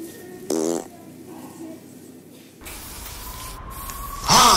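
Prank fart sounds from a handheld Pooter device go off in a Walmart store, with short buzzy blasts and hissy sprays over store background noise, and people's voices in between.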